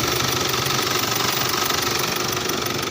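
An overheating engine runs steadily at close range, giving a loud, even rattling knock without pause.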